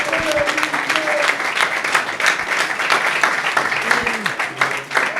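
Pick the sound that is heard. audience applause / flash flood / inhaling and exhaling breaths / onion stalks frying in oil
audience applause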